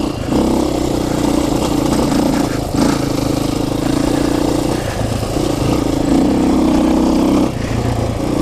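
Adventure motorcycle on an ADV ride, its engine droning steadily up close with repeated surges and dips in revs as the rider rolls on and off the throttle, plus constant wind and road rumble.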